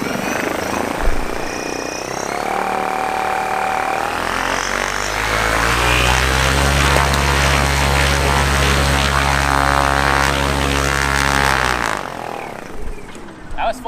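Electric model airplane motor and propeller running up to full power, a loud steady buzzing whine with strong harmonics that swells in over a few seconds, holds close and sustained, then cuts off abruptly near the end.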